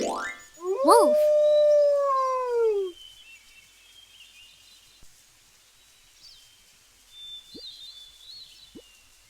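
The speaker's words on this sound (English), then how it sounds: "Wolf." A wolf howls loud and close: one long rising-then-falling tonal howl with harmonics over about two seconds, followed by quiet with faint distant chirps and a couple of soft clicks.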